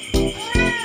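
An adopted cat meows twice in quick succession, close and loud, each call rising then falling in pitch.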